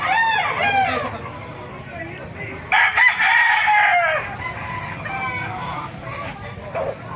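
A lemon sweater gamefowl rooster at a Bocaue market crows and clucks nearby, with a few loud bursts and softer clucks in between, while someone talks over it.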